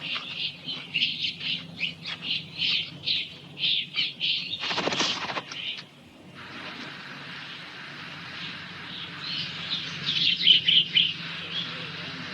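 Small Galapagos finches chirping in a natural island setting, a run of short, bright repeated chirps at close range, briefly interrupted by a loud rustling burst, then fainter scattered calls over a steady low background.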